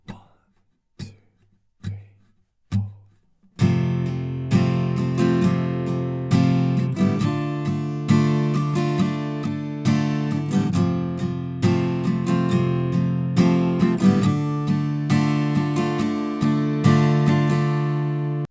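An acoustic guitar plays a few muted strokes, then strums the first line of chords in a steady down-up pattern, ringing clearly on its own without voices.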